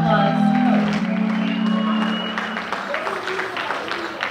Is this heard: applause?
yes